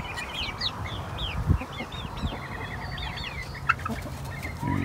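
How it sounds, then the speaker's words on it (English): Several chickens, including a Production Red, cluck and call in a farm coop, with short repeated bird calls over a steady low background rumble and occasional louder thumps nearby. "This is my latest batch of chickens that I bought."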